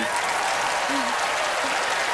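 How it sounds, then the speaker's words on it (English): A live game-show audience claps steadily for a volunteer joining a magician on stage, a dense, even wash of applause throughout with a faint voice briefly audible underneath. "please give a big round of applause to Allison Hennigan"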